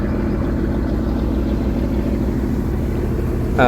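The M.Khan-7 passenger launch's engine drones steadily at speed, a continuous low rumble with a faint brief sound at the very end.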